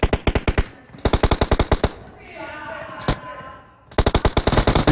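Automatic rifle fire in PUBG comes in rapid, loud, close bursts of about a dozen shots each, split by a short quieter gap with faint game noise and a single shot before the shooting resumes.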